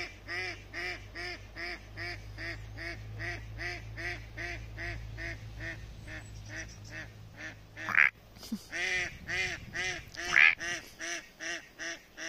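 A group of ducks quacks in a steady, repeated chorus close by, the calls coming in quick regular bursts over a low hum, with a louder cluster of quacks near the end.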